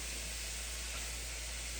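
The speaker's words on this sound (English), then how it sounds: "Now, I will go ahead and add my onions." Onions tossed into a hot clay pot where pork has been sautéing give a steady, even sizzle and hiss, fairly faint and continuous with no talking over it.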